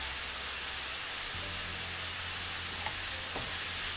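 Chopped vegetables sizzle steadily while being sautéed in a pan, a continuous frying hiss with occasional faint stirring clicks and no talking.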